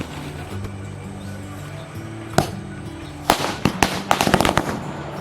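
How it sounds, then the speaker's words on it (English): Firecrackers set off during a traditional Chinese New Year celebration in Taiwan: a single sharp bang, then a rapid, uneven string of loud cracks and pops close by, following a quiet hum. "Once all the paper money was burning, it was time to set off some firecrackers."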